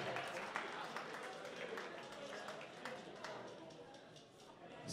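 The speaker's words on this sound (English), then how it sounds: "Round of applause to Gossier for winning the Kendall Calling tickets in Vote Fest." Applause at a student union election results show for the winner of Kendall Calling festival tickets, fairly faint clapping from a crowd with individual claps audible, mixed with background chatter and voices throughout.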